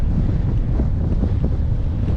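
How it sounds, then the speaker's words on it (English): Strong North Dakota wind buffeting the microphone, a constant low roaring rumble with gusty fluctuations throughout. "yeah, it's windy,"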